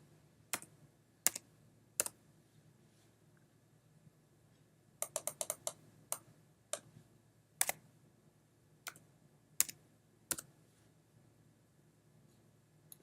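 Numbers typed on a computer keyboard: sparse, crisp key clicks, single taps spread out with one quick cluster in the middle, quiet room.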